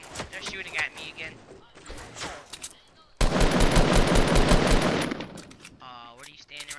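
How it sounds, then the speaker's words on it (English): Gunfire in a shooter video game, scattered shots and then a loud sustained burst of rapid automatic fire lasting about two seconds, with game effects and voice-like sounds around it. "they're shooting at me again"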